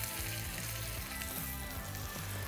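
Pork chop fat sizzling in a little olive oil in a pan, a steady close frying hiss that runs continuously with no talk.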